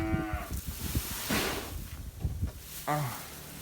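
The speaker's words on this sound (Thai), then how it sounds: "ปะเราไปดู วัวกันก่อนว่าจะมีปฏิกิริยายังไงนะครับ" Cattle on a hillside farm moo twice, a call at the start and another later, close and fairly loud, amid rustling, handling noises and some voice sounds.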